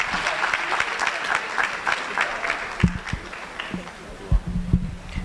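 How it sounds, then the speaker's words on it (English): An audience at a middle school moving-up ceremony claps in a moderate, uneven burst that thins out, with a few louder nearby claps and some voices mixed in. "Let's give a round of applause for Ms."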